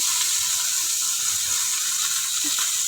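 Steady, dense sizzling of fish frying in hot oil, a continuous hiss with no voices.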